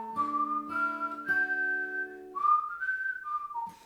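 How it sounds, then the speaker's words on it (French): A person whistles the melody of a song intro, clear and close, with sustained pure notes and small pitch slides forming a simple tune, with no accompaniment. "je siffle sur cette introduction"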